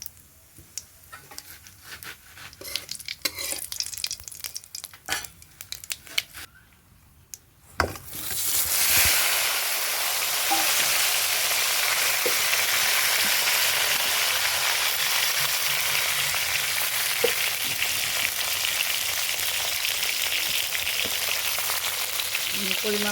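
Eggplant and potato drop into hot oil with cumin, and after several seconds of quiet clinks a loud, dense sizzle erupts and holds steady, crackling evenly for the rest of the stretch.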